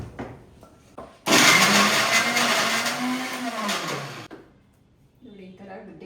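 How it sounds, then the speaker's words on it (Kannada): A mixer grinder powders dates for dry-fruit laddu in a home kitchen, a loud continuous whirring burst of about three seconds with a slight pitch rise, followed by quieter clatter. "ನೋಡಿ ಡೇಟ್ಸ್ ಕೂಡ ಸ್ವಲ್ಪ ಗ್ರೈಂಡ್ ಮಾಡ್ಕೋತೀನಿ"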